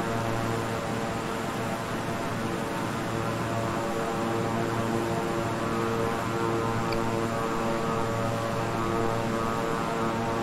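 A King Air 350i twin-engine turboprop in Microsoft Flight Simulator, slowing before landing, gives a steady droning engine and propeller hum with a constant whine and no talking, heard throughout.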